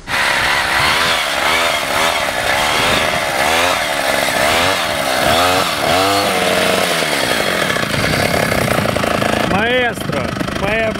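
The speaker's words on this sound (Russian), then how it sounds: "Вездеход на бензопиле просто зверь." Homemade all-terrain snow vehicle powered by a chainsaw engine, driving through deep snow; the small two-stroke engine snarls loudly and close, its pitch repeatedly revving up and dropping in quick waves throughout.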